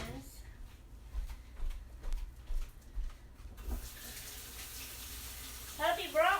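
Tap water runs into a kitchen sink for a hand wash, a faint, intermittent splashing in the background beneath a nearby voice.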